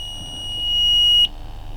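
A handheld metal detector wand gives a single sustained high-pitched beep that swells in volume and then cuts off sharply.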